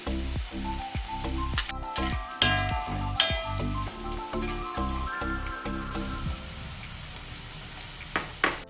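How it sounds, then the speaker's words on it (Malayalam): Taro and meat are stir-fried with a little ginger in a frying pan, with a steady sizzle under repeated clinks and scrapes of a spoon against the pan, loud and close. "ലേശ ഇഞ്ചി, എല്ലാം കൂടെ നമുക്കൊന്ന് ഇളക്കി കൊടുക്കാം"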